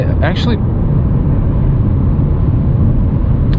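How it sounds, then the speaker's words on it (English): Steady low rumble of tires rolling on pavement from inside a moving 2020 Audi A4 S Line at night, constant and broadband, with a brief voice at the start. "I think it's more of a tire noise."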